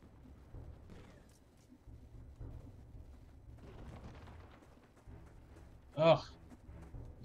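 Cannons fire in the battle game Totally Accurate Battle Simulator, a steady rumble of distant booms under low talk, topped near the end by one sharp, loud blast.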